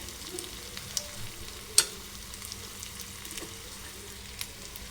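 Ivy gourd pieces fry in a tempering of moong dal, giving a soft, steady sizzle with a few small pops close by.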